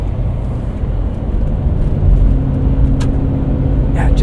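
A 2000 Lexus LX 470 with a muffler delete cruises on Destination XT tires. A steady, loud road-and-engine drone is heard from inside, swelling slightly partway through.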